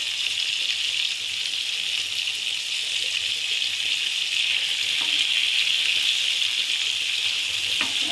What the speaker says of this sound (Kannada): ಒಂದು ಸೈಡ್ ಚೆನ್ನಾಗಿ ಫ್ರೈ ಆಗಿದೆ. ಚೆನ್ನಾಗಿ ಫ್ರೈ ಆಗ್ತಿದೆ.